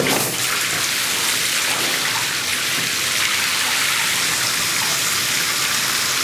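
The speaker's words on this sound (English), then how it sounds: "The water's pouring straight down right into our drain where we were aiming" Water from a freestanding bathtub filler pours steadily straight down into the tub drain, a continuous close splashing rush with no talk.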